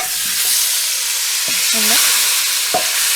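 Mango sizzles and crackles loudly in a hot pan, a continuous bright frying hiss with a few faint clinks in the background.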